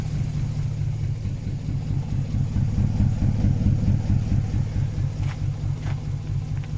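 A car engine idles right after starting with a newly fabricated 760mm-long exhaust silencer, giving a loud, steady, low, pulsing rumble close by, with no talking and two faint clicks near the end.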